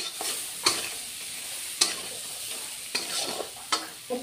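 A mustard fish curry of bata fish is stirred and sautéed in a pan over lowered heat, giving a steady close sizzle broken by sharp spatula scrapes and clinks at irregular intervals.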